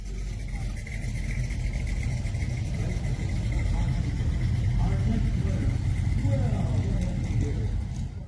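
Rumbling V8 exhaust from a Chevrolet SS 427 with a 427 cubic inch big block rated at 385 horsepower and dual exhausts, a steady mid-range drone under a speaking voice throughout.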